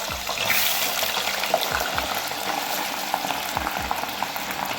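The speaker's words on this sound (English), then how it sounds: "I'm gonna half fry these potatoes" Sliced potatoes frying in hot oil for homemade chips, a steady dense sizzle throughout with faint stirring knocks, close and fairly loud, no voices.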